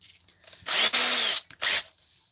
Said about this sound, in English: So I'll just go with a 1/8 drill bit.